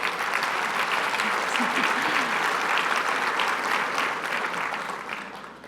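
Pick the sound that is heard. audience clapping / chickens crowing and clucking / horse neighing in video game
audience clapping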